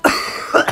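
A single short cough, close and fairly loud, with a brief second catch at the end.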